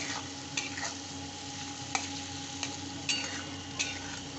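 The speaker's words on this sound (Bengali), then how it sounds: "এটা একটু মশলাটা খুব ভালো করে কষতে হবে।" Spice masala with nigella seeds stir-fried in a pan for a curry, a steady close sizzle broken by a few sharp scraping stirs, with no voices.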